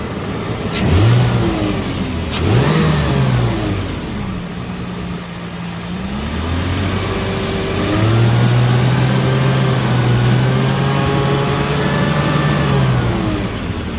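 A Toyota FJ Cruiser engine revs up twice in quick bursts during a fuel pressure check, then holds at a steady raised idle, close and loud, with no talking.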